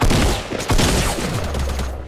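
Gunfire from a Fortnite Battle Royale match comes as a loud, dense burst of rapid shots. The shots run together almost continuously across two seconds, close and heavy, with no clear break.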